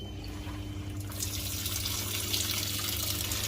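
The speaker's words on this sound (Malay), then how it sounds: "ok ini air masuk" Water rushes steadily into a Samsung washing machine drum through a newly replaced water inlet valve, with a hissing splash over a low constant hum.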